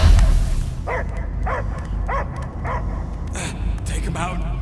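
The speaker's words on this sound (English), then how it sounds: "I hear only barking." Dog barking in the Guardians of the Galaxy video game, a series of regular barks about every second over a low rumbling game soundscape, with speech nearby.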